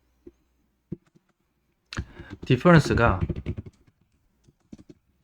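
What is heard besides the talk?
typing on a computer keyboard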